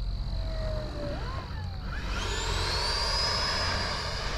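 A Freewing F-22 Raptor RC jet flies past with a steady whining turbine tone that rises and sweeps in pitch, over a constant low rumble of wind and ambient noise, with no talking.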